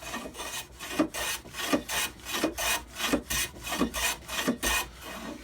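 A Stanley Bailey No. 4 hand plane shaves wood against the grain in about eight even, rhythmic rasping strokes, close and fairly quiet with no talk.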